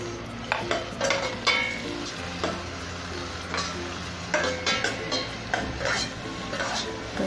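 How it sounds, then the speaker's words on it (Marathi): Onion and tomato sautéing in a pan for spiced vegetable pulao, a steady sizzle under repeated spoon scrapes and clinks against the pan, close and fairly loud. "कांदा टॅमॅटो थोडा वेळ परतून घेऊया जरा, टॅमॅटो नरम होईपर्यंत 1-2 मिनटं।"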